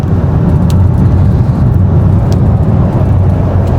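A car driving past on a snowy street in Saskatoon during a very heavy snowstorm, a steady close engine rumble and road noise throughout, with no talking.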